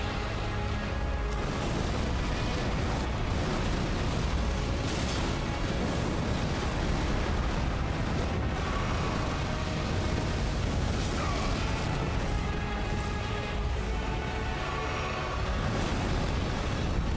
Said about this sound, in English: that was his explosion thing.